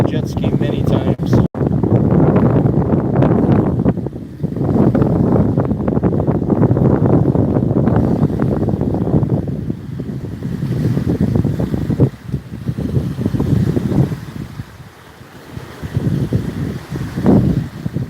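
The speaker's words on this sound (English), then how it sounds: "It is a windy day." Gusty wind at a beach buffets the microphone in heavy, rumbling bursts, with surf and a passing jet ski faintly beneath and occasional voices.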